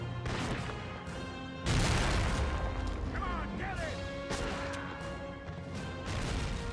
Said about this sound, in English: Throw a grenade at him.